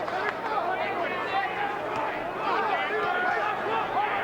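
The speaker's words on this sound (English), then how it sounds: "the crowd now getting behind the underdog" Crowd at a heavyweight boxing match roaring in support of the underdog, a continuous dense babble of cheering and shouting that fills the whole stretch without a break.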